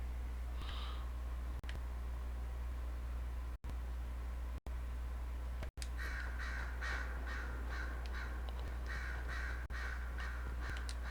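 Crows caw in a Dragon Age: Inquisition game scene, a few harsh calls early and then a rapid run of repeated caws, over a steady low hum.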